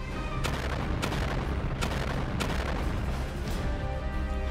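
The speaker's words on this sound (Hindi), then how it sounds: "जिससे जबरदस्त धमाके होने लगते हैं" Repeated heavy booms from missiles striking the sea around a cargo ship, several sharp blasts spaced over a dense, continuous roar of rumbling noise with no voices.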